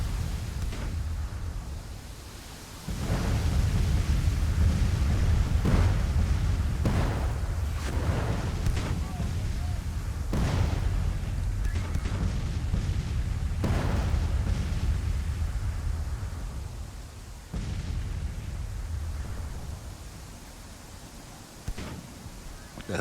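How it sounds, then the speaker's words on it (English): Artillery booms and rumbling explosions roll through a Civil War battle in Grand Tactician: The Civil War, heavy low blasts recurring over a constant din. "They just want to stand there and get shot up by artillery."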